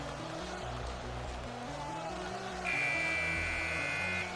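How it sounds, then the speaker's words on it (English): A hockey arena horn buzzer sounds the end of the first period in a finals game, a loud sustained electronic tone lasting almost two seconds over the steady rumble of crowd and rink noise. "That buzzer says it's the end of the first."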